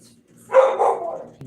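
A dog barks once, then yips and whimpers briefly, close by outdoors at night, with a second dog nearby and a voice faintly around it.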